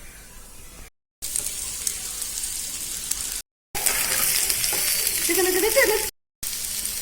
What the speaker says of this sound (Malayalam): അത് ഞാൻ നന്നായി ബ്രൗൺ കളർ വരെ വറുത്തെടുക്കാം.